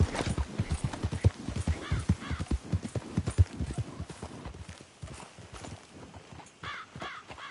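A horse gallops in Red Dead Redemption 2 with rapid, rhythmic hoofbeats up close, while a crow caws a few times in the background and the pace slows toward the end.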